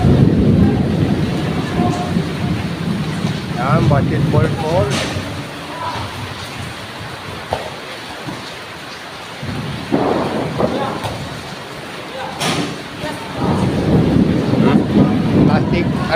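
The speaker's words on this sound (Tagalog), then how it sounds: "Malakas na naman itong ulan na to." Heavy rain pours steadily with rolls of thunder, heard from under shelter near a basketball court in a Philippine neighborhood, while people talk close by throughout.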